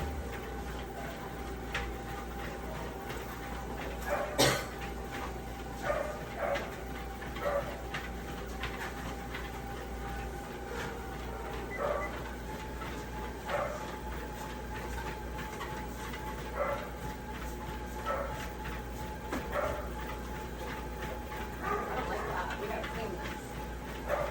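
A dog warming up on a running treadmill, with a steady machine hum and scattered short whines and yelps through the stretch, while people talk in the background.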